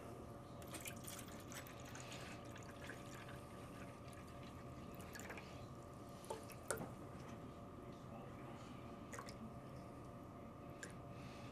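Water is poured into a Spin Clean vinyl record washer, a faint continuous trickle and splash close by that runs steadily with a few soft drips and knocks.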